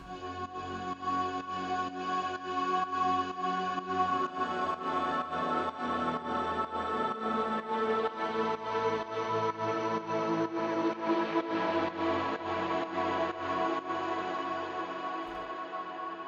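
A soft, airy melodic techno synth pad drifts continuously with a shimmering, slightly pulsing texture, sustained throughout and fairly quiet, with no voices.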